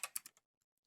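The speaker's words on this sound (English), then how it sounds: "I'm going to start with typing out a system message." Quick bursts of keystrokes on a computer keyboard, about four close, crisp clicks in rapid succession, then silence with a couple of faint taps at the end.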